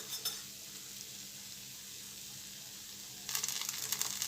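Instant chokha (rice) dosa roasting on a hot pan over medium gas with a little oil added at the edges, giving a steady soft sizzle and hiss that grows brighter and busier near the end, without speech.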